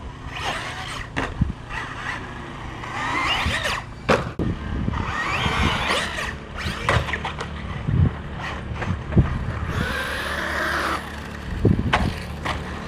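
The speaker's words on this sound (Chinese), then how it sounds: "带着这套新升级的10208，我就立刻来到了小滑板场继续试车" An upgraded MJX 10208 RC car drives around a small skatepark, its electric motor whining in rising and falling bursts mixed with rough wheel and surface noise, fairly close and with no talking.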